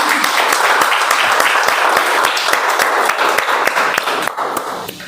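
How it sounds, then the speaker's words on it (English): A Toastmasters meeting audience gives a round of applause, dense, loud and close, with sharp individual claps standing out before it thins out near the end. "May I request all of you to please give me a round of applause so I can start."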